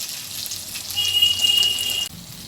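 Catla fish coated in semolina sizzling on a hot tawa, a steady close hiss with a brief brighter crackle before it cuts off.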